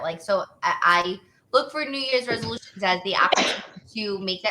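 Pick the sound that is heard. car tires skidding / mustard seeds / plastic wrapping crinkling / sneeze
sneeze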